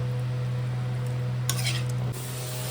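Cauliflower and potato stir-fried with spices in a pan make a soft steady sizzle over a low hum, with a brief burst of spatula scraping near the end and no voices.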